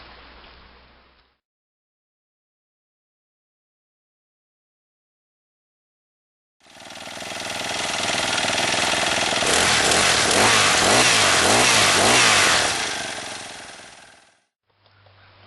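A small four-stroke RoadBug motorized bicycle engine roars steadily at close range for several seconds, loud and rough with a rattling pulse, after a stretch of silence.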